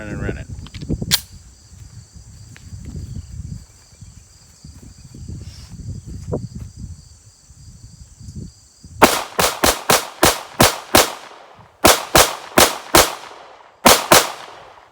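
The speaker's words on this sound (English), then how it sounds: "So let's shoot our upper left hand there. We're gonna mag dump it." A SARUSA B6C pistol fires a rapid mag dump of about ten loud, sharp shots in quick bursts near the end, after a stretch of quieter background noise and handling.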